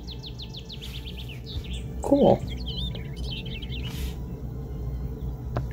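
Rapid high bird chirps and tweets in a cartoon flutter through the scene in quick trills, moderately loud over a low background hum, with a person briefly speaking partway through.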